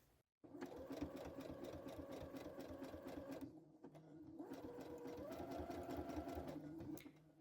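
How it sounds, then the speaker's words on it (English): A sewing machine runs steady stitching along stretch bias binding close to the edge, with a brief pause partway through before the close, continuous whirring resumes; no one speaks. "I'm sewing really close to the edge of the binding, making sure that I'm not revealing the first row of stitching."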